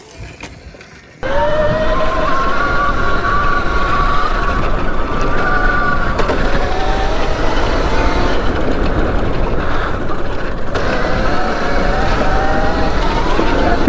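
A 2024 Alien Rides Moto X electric dirt bike climbs a hill in second gear, its motor kicking in after a second of quiet and holding a loud, steady whine mixed with heavy rushing wind and tire noise.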